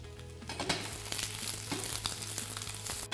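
Beef fries in a hot pan with a loud, steady crackling sizzle and a low hum beneath, broken by occasional sharper pops and stirring scrapes.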